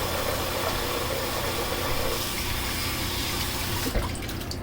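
Water runs steadily from a tap, a continuous broadband rush with a low engine-like hum underneath, cutting off near the end.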